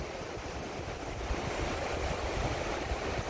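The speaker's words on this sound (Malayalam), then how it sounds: "താഴത്തേക്ക് വീഴുന്ന വെള്ളം അങ്ങനെ ഒഴുകി ഇങ്ങനെ പോകുന്ന ആ പുഴ, അതിരപ്പള്ളിയുടെ അതിമനോഹരമായ കാഴ്ച." Athirappilly waterfall and the river below it, a broad continuous roar of falling and rushing water, steady and full, with some wind buffeting the microphone and no talk.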